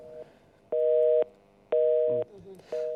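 A telephone busy signal sounds after a dropped call during a phone-in to a television broadcast, with three loud, even tone pulses separated by gaps and faint voices briefly heard in between.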